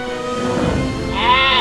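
An angry mountain goat in Bookworm Adventures gives a single loud, wavering bleat that rises in pitch toward the end, heard close and clear with no talk over it.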